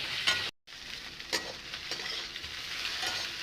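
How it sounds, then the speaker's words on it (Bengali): Beaten duck eggs seasoned with salt and cumin powder sizzle in a pan, with a steady quiet frying hiss and intermittent scraping strokes of a spatula stirring them. "ভাজা নেব ভালোভাবে"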